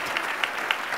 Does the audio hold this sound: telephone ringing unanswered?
no